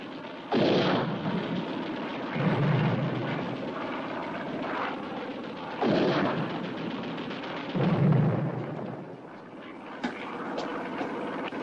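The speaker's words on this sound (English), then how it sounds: "This is a 5-incher firing." A 5-inch naval gun aboard a warship fires repeatedly in a 1956 war film battle scene, loud booming blasts at roughly three-second intervals over a constant roar of engines and combat noise.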